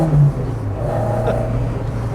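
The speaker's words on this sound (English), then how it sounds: "the induction's really vocal" A Lada fitted with a Cosworth Duratec engine gives a loud, steady induction roar as it pulls, holding a sustained drone close by with no talk over it.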